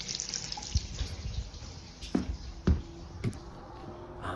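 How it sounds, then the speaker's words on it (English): A hot water tap on a home Baxi boiler system runs as a steady, fairly quiet wash of flowing water, broken by a few brief knocks and clunks near the fixture. "So just turn on these taps."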